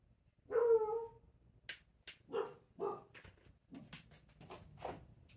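A single dog bark sounds nearby, followed by a few softer yelps and whines.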